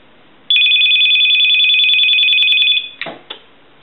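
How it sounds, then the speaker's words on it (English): An electromechanical bell on a Radio Shack Continental 43-330 telephone rings once, loud and close, a sustained metallic trill for about two seconds before a clunk and rattle as it stops. "Ring our telephone."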